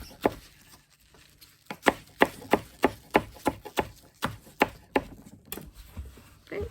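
Green onions are chopped on a board with a knife, a run of about fifteen crisp, evenly spaced strikes, close and loud, with no talking.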